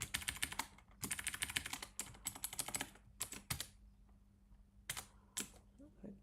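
Typing a blog post in Emacs on a computer keyboard produces quiet bursts of rapid keystrokes separated by short pauses, ending with a few isolated taps.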